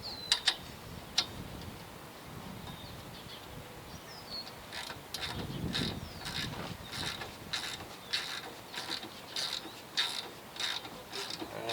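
A bolt is tightened with a ratchet while a Skilsaw SPT99-12 table saw is put together, giving a run of sharp, evenly spaced clicks up close that follow a few scattered earlier clicks, with no talking.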